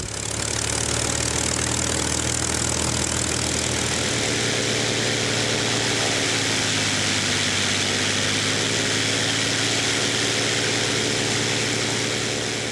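An old propeller aircraft engine runs smoothly, giving a loud, steady, continuous drone with an even hum throughout and no voices.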